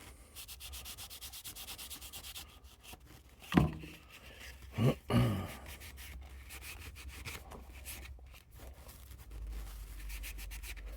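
Liquid latex being rubbed off a rusty-effect car body, close, soft scrubbing and rubbing strokes with a few sharper handling bumps, no talk.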